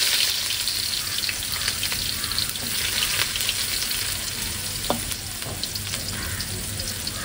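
Mustard seeds, fenugreek and chopped onion frying in hot oil in a home kitchen, giving a steady, close, dense sizzle with crackles and spatters throughout and no talking.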